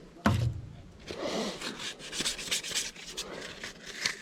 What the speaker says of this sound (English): a little bit more sanding. This time I'm going to go with the grain though